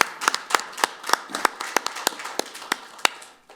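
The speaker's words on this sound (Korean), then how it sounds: "저희들 우리 약사회를 대신해서 박수 한번 드리겠습니다." Applause at a Korean parliamentary forum on health insurance finances: a small group clapping in loose, fairly regular sharp claps, close and moderately loud, tapering off at the end.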